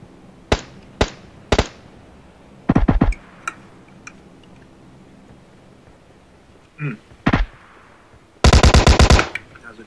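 Gunfire in the video game PUBG Mobile: sharp single shots followed by short automatic bursts and a final loud rapid volley, with sparse quiet gaps between them.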